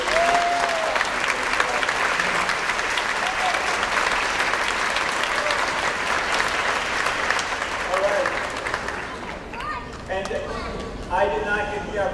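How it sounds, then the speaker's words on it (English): A school end-of-year concert audience claps loudly and continuously for several seconds. The applause then thins and fades, and a voice starts speaking near the end. "they all deserve a huge round of applause"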